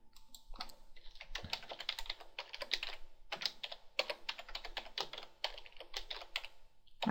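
Typing on a computer keyboard, with quick bursts of key clicks broken by short pauses, close up and fairly quiet, no voices.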